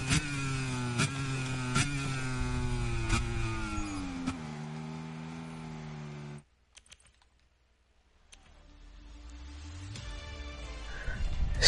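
A MotoGP bike in the MotoGP video game laps the Austrian circuit, its engine whining and climbing through gears. It falls silent for about two seconds, then a low revving build returns.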